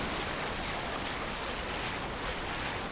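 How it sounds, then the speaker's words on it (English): Waterfall in the video game Expedition 33: a dense, steady broadband rush of falling water, loud and continuous with no pauses. "Can we actually rinse off in this waterfall, you think?"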